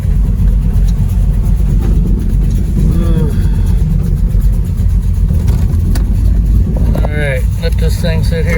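A 1978 Nova Rally car engine idles steadily and loudly up close in a garage, a continuous low rumble running throughout with a voice briefly heard over it.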